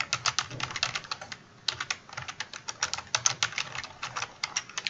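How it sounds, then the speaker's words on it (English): Someone types steadily on a computer keyboard, filling in a form with a dense, continuous patter of close keystrokes and one brief pause, with no talking. "Type your full name,"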